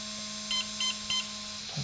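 Three short, evenly spaced electronic beeps come from a BL controller, fairly faint and close, over a constant background hum.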